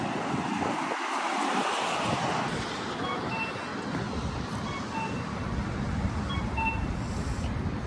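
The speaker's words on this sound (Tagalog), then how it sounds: "Malakas yung hangin." Steady, strong wind roars across the whole clip in downtown Vancouver, British Columbia, a broad rushing noise with low buffeting gusts and no voices.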